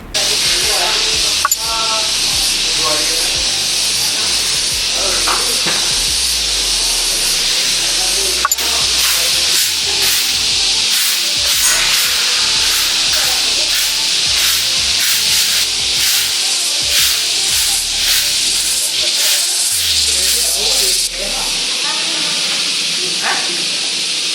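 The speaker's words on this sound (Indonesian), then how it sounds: "Terus di bawahnya itu ada sungai, jadi kedengeran suara aliran sungainya." Steady broadband rushing water from a river flowing below a campsite at The Lodge Maribaya, Lembang, Bandung, loud and continuous with faint rattling textures throughout and no talking.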